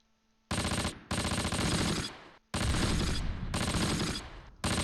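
Cannon and heavy gunfire in the World War II video game Close Combat, with several loud sustained bursts separated by short gaps and no talking.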